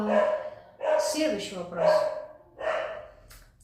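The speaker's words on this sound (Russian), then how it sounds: "Я надеюсь, собака вас не очень будет отвлекать." A dog barks and yips repeatedly indoors in a series of short, loud bursts, overlapping with a person speaking nearby.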